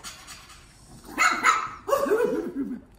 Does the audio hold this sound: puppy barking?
yes